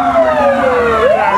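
Fire engine sirens wail as emergency crews arrive at a building during a fire drill, a loud rising and falling tone sweeping continuously over road noise with no talk.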